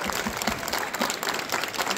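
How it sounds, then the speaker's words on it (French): An audience at a fan convention talk applauds the French voice actors of The Simpsons, a dense, steady clapping from a crowd, with some talk mixed in. "tonnerre d'applaudissements pour nos invités, s'il vous plaît"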